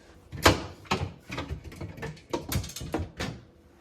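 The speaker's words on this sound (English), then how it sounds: "Put the drawer out, take the glass out." The crisper drawer and glass shelf are pulled out of a Frigidaire Gallery refrigerator, heard as a string of close plastic clunks, scrapes and glassy knocks in uneven rhythm, with no talking.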